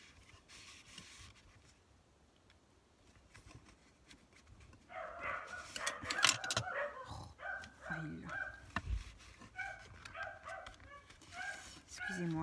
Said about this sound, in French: il y a quelqu'un qui rentre, donc vous devez entendre les chiens